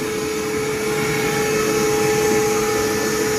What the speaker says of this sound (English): Just got one man feeding the hopper, and the other guy up in the attic blowing it.